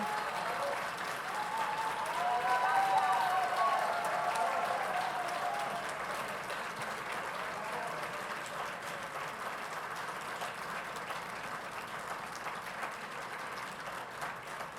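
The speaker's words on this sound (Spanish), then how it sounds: "recibamos con otro aplauso a la autora de Juicio al Peronismo" Sustained audience applause welcoming an author at a book fair presentation: a broad, even roar of clapping that swells in the first few seconds, then holds steady and slowly fades, with faint voices underneath.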